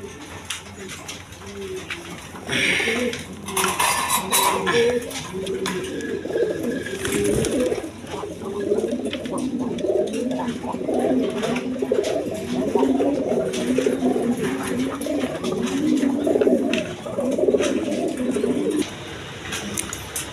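A flock of Gola pigeons coos steadily in low, throaty murmurs, overlapping and continuous, close by, with faint chirps and rustling above.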